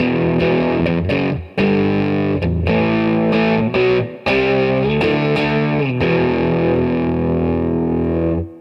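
Electric guitar played through a Roland Blues Cube amp with the gain raised into breakup distortion, loud sustained overdriven chords and notes with short pauses, no talking.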